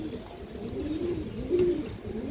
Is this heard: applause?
no